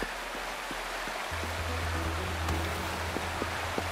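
A waterfall in the video game Wuthering Waves, a steady broadband rushing of falling water heard at moderate distance under a low hum, with a few faint clicks and no talk.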